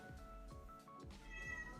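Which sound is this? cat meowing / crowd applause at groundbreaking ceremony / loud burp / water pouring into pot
cat meowing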